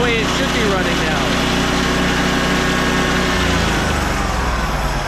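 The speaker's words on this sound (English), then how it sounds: "So, now the RPMs will come up when we engage the blade." A Kohler V-twin lawn mower engine whose governor had failed and been repaired runs loud and close, its steady drone shifting in pitch as the blade engages, with someone talking over it.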